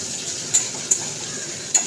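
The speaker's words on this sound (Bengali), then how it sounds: "পেঁয়াজটা এই যে ভাজার সময় দিচ্ছি, একটু ভাজা হয়ে যায়" Onions frying in hot oil while a Bengali chicken doi curry is cooked, giving a steady soft sizzle with three sharp clicks of a utensil against the pan.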